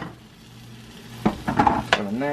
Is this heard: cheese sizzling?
yes